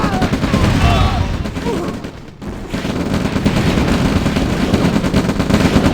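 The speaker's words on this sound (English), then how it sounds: "Now he is shooting at the tanks because he needs to." Dense gunfire and explosions from tanks and units clashing in the real-time strategy game Red Alert, a loud continuous barrage with a brief dip midway, under faint background commentary.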